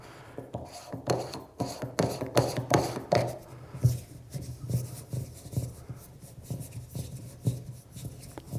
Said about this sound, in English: Not much hand noise.